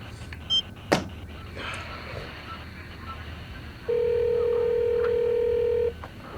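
Telephone being dialed: a short beep and a sharp click, then a steady two-second electronic tone over quiet room background.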